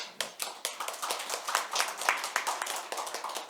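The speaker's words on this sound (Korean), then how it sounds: "박수 부탁드리겠습니다" Audience applause at a Korean software industry conference on metaverse legislation, a steady patter of many hands clapping together, fairly close and continuous for a few seconds, with no talking over it.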